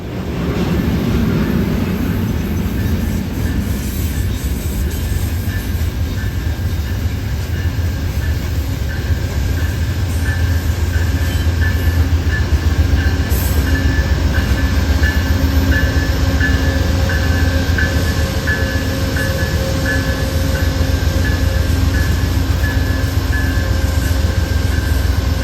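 A train rolls past at a railroad crossing with a loud, steady rumble and rattle of railcars, a crossing bell ringing repeatedly above it, and no talk.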